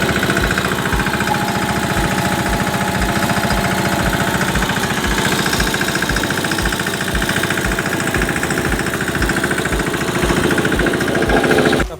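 A tractor engine runs loud and close while riding aboard, a rough rhythmic knocking chug that holds steady throughout with no talking.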